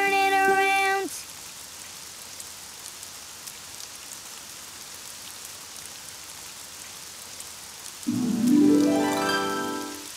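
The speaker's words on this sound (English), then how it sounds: "Oh, it's raining outside." Soft steady rain falling outside in a children's cartoon, a faint continuous patter between musical phrases at the start and end.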